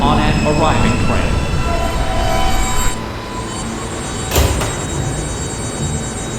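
At a subway station, the doors of an R143 train close, with a rumbling, clattering train running underneath, a drop in noise partway through, then a brief thump and hiss as the doors shut.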